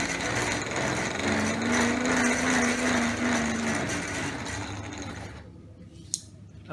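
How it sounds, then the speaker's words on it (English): Motor-driven wheels spin up under a PWM speed controller, a steady whirring mechanical drone with a rising tonal whine, dropping away near the end after a brief click. "this bigger wheel will rotate even faster."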